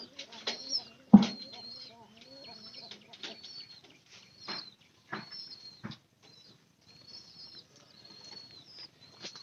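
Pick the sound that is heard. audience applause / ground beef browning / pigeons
pigeons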